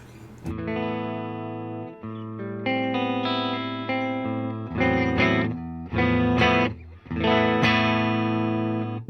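Clean electric guitar chords and arpeggios ring out alone through a Deluxe Reverb tube amp with spring reverb, steady and moderately loud, with brief pauses between phrases.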